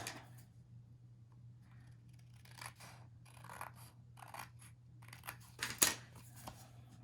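Scissors trimming a sheet of paper for an album, several soft snips and rustling cuts spaced out over quiet, growing a little louder toward the end, no voices.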